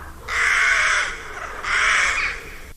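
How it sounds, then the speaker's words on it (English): Two long, loud, harsh caws from a crow ring out close by, each lasting under a second and separated by a short pause. "So he opened his beak wide to utter his loudest caw"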